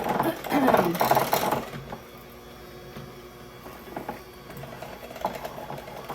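An electric mixer runs on low speed through popover batter, its motor whirring loud and close for about two seconds before dropping away to quiet kitchen noise with faint scattered clatter.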